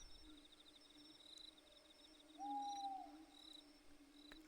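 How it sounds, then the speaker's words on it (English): Owl hooting in the horror video game Corpse Party, a single drawn-out hoot rising briefly out of a quiet, dark forest ambience with chirping crickets and faint insect buzz. "I heard an owl."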